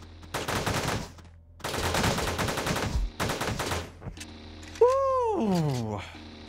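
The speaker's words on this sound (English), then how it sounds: "Machine gun" In the pixel-art shooter Teleglitch, a machine gun fires in three rapid close bursts, each a rattling stream of shots separated by short gaps, followed by a rising and falling electronic whine.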